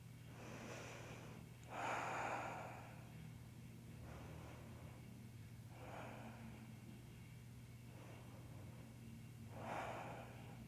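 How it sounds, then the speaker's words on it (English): Slow, soft breaths drawn in and let out during a yoga neck stretch, with three or four fuller exhales standing out over a steady low background hum; nobody speaks. "Continue to breathe."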